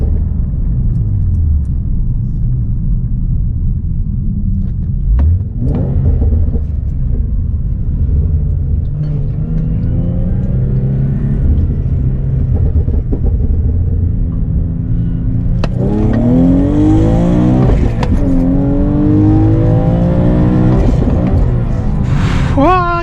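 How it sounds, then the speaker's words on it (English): A Nissan Z or Infiniti G pulling hard in first gear with traction control off and windows up: a loud, continuous interior engine roar that climbs in pitch as it revs, with a voice heard over it. "Okay, let's get this first gear pull."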